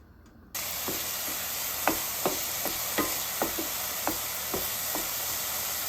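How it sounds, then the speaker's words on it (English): Chopped onions cooking in a pan for a beef pasty filling, a steady soft sizzle with faint stirring scrapes and small pops recurring every half second or so, close and alone without talk. "We're just gonna let these cook. We're gonna let these get translucent."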